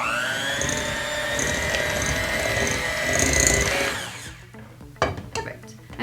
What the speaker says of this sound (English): So I'm going to start by putting my cream cheese into my bowl and then mixing it till